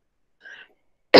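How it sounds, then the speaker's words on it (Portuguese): One sharp, close cough comes at the very end, after a brief faint voiced sound and silence. "eu tô com um pouco de tosse agora"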